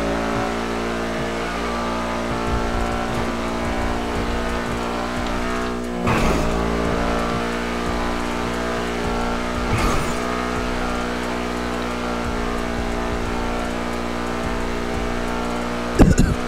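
A fast car in GTA roleplay races at near top speed. Its engine holds a loud, steady high-revving drone for the whole stretch, with a few sharp whooshing bursts and a brief squeal near the end.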